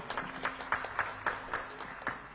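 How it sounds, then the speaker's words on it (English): Scattered, fairly sparse applause follows an award presentation to council members at a potato promotion event, individual claps landing roughly every quarter second with a faint hum underneath. "A round of applause."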